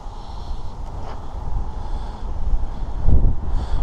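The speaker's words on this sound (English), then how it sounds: "Wind's alright though." Night wind by the Great Wyrley Canal: steady, rushing noise buffets the microphone, swelling into stronger gusts toward the end, with no voices.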